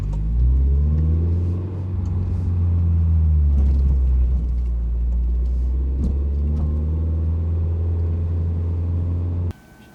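A Toyota GR86 sports car with a GReddy Supreme SP exhaust drones loudly at a steady low rumble, holding a sustained rev before cutting off abruptly near the end.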